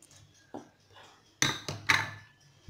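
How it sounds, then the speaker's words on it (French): Tuna cake batter with cheese is mixed in a bowl, giving a few sharp utensil knocks and clinks against the bowl over a quiet background, with two louder scraping strikes near the middle. "Mélange encore un petit peu."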